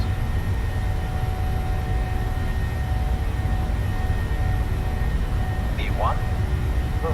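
Boeing 737 jet engines at take-off power in the PMDG 737 simulator, a steady loud broadband roar holding constant throughout, with faint rising tonal whine near the end.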